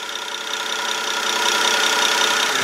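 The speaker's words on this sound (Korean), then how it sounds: "엔진 소리 한번 바로 들려드릴게요." A BMW 740Li's large engine idles with its bonnet open, a smooth, steady, fairly quiet hum and faint ticking, heard close up with no talking.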